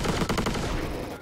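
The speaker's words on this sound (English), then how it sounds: "now we've got like a proper explosive gun" Rapid gunfire from an animated explosive gun rattles out in a dense, loud burst of shots lasting just over a second.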